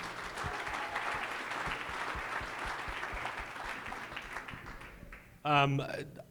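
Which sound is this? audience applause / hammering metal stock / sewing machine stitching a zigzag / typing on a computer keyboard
audience applause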